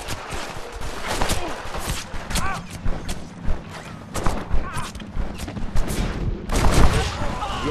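Scattered gunshots and thuds in Red Dead Redemption during a Grab The Bag event at Tumbleweed, irregular cracks of varying loudness amid busy background noise.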